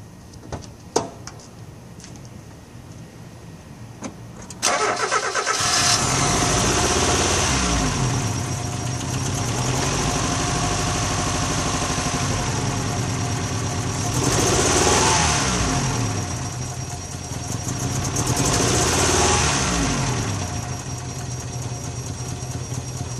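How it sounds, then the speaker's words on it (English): A Mazda B2200 pickup truck engine cranks and catches after a few seconds of quiet clicks, then settles into a steady, loud idle with a couple of slow swells in revs. "start the engine."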